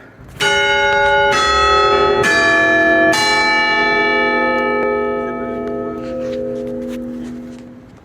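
Loud church bells strike four times in a slow, heavy sequence, their rich tones ringing on and slowly fading close overhead.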